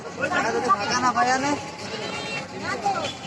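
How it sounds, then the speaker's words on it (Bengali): Several sheep bleat in wavering, quavering calls close by, with a murmur of crowd babble and voices underneath throughout. "রায়সাতে এই ভেড়াগুলো দেখবে"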